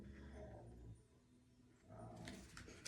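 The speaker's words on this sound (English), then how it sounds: "I can hear my dog." A dog at home whimpers and yips faintly in the distance, two short bouts separated by a brief lull, very quiet against room noise.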